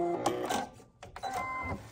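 A sewing machine locks a stitch while sewing a French seam on a snap bag, giving two short whirring bursts with a brief pause between them, close and moderately loud.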